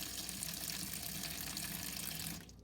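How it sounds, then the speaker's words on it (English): Cold tap water pours steadily into a dish of washed marbles, a continuous close splashing rush that cuts off abruptly near the end, leaving quiet. "Now I'm going to take just cold water"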